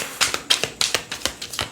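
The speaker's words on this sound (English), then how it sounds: "So I'm just shuffling the cards." Tarot cards being shuffled by hand, a series of crisp riffling snaps and taps repeating roughly every third of a second, close and fairly loud, with no talking.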